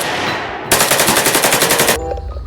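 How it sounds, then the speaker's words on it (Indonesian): A toy gun fires a rapid electronic machine-gun burst, loud and close, rattling evenly for just over a second before stopping abruptly. "Ini tembakan mainan teman-teman."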